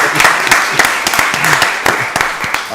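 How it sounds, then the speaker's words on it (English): Audience applause rings out at a county board of commissioners meeting, a steady patter of many hands clapping at close range with sharper individual claps sprinkled through. "So we let's give Head Start a round of applause."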